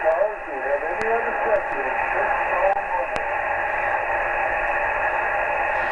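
Steady hiss of shortwave radio static received on an indoor antenna, with faint warbling tones and a couple of sharp clicks, continuous and fairly loud throughout.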